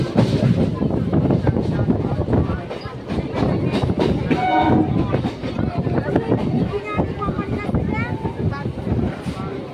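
Train pulling out of Ranaghat junction, heard from inside a carriage: rumbling wheels and rhythmic rail clatter under someone talking and nearby chatter, fairly loud throughout.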